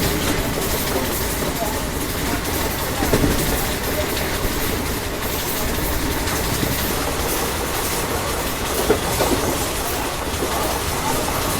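A train runs on the rails near Chilika Lake in Odisha, a loud, steady rumble with a rhythmic clickety-clack of wheels over rail joints that lasts the whole time, heard up close as if from on board.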